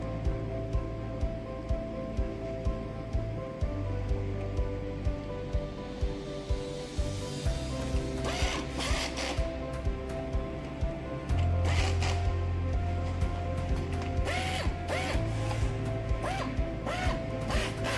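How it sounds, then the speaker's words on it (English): Technicians snap shut the clips and drive the screws on a portable inverter generator casing during assembly, giving repeated quick clicks and rattly ratcheting over a steady background hum. "The technicians carefully secure the casing clips and every screw."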